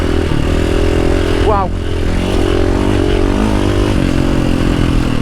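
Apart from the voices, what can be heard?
enduro motorcycle converted into a rally bike, engine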